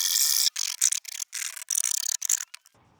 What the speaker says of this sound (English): Just going to clean up some of the rough edges and burrs here on the cut